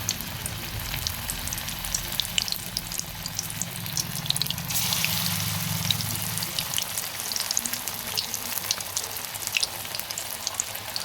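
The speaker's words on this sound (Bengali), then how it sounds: "এখন এক এক করে বড়াগুলো তেলে দিয়ে দিয়েছি তেলও গরম হয়ে গেছে আঁচটা একটু কমিয়ে পকোড়াগুলো দিয়ে দিচ্ছি" Banana flower pakoras frying in hot oil over lowered heat, a steady broadband sizzle with a brief louder crackling burst midway, close and continuous with no talking.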